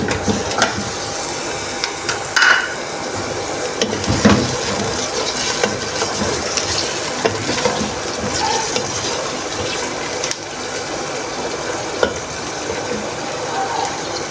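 Chicken frying in a pan with sautéed onions: a dense, loud sizzle runs throughout, broken by occasional stirring scrapes and clinks.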